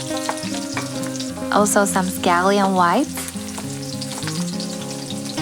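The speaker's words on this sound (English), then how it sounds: "In a wok, heat up a little bit of oil." Oil sizzles steadily with garlic and ginger in a hot wok, a continuous crackling hiss, while a voice speaks briefly over it with music playing underneath.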